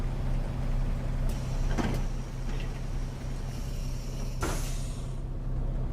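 A C400R bus engine in OMSI 2 idles low and steady while two short pneumatic hisses sound as the doors close, the second one longer.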